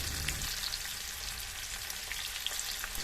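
Raw mango pieces deep-frying in hot oil give a continuous dense crackling sizzle with small pops scattered throughout, close by, with no one talking.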